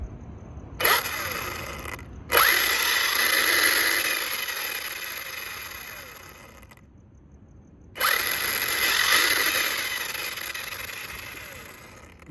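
An RC car's Spektrum 6S 2050kv brushless motor whines up in high-pitched bursts, two long accelerating runs separated by a short one, each swelling and tapering off, heard close with no talk.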